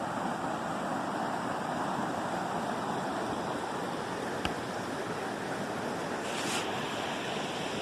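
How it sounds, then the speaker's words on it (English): The White Chuck River in the North Cascades rushes through forest as a steady, broad roar of flowing water, continuous and close with no voices. "I hear the river."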